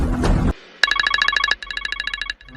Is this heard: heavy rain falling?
no